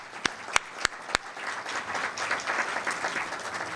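Audience applause at a university convocation: a few sharp isolated claps at first, then building into steady, dense clapping from a seated crowd in a hall.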